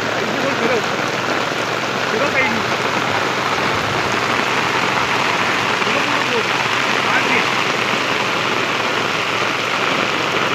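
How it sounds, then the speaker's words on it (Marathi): Heavy monsoon rain falls over rice paddies in the Konkan, a dense, unbroken hiss of drops pounding the surface close by, with a voice faintly talking beneath the downpour. "तो बघा पूर्ण बघा, आजूबाजूला बघा कसा पूर्ण पाऊस धरला आहे"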